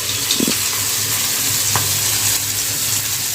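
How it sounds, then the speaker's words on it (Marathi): Aloo matar tikkis fry in a pan with a continuous, even sizzle up close, with a couple of brief utensil taps over the crackle. "यांना चांगलं आपण फ्राय करून घेऊया"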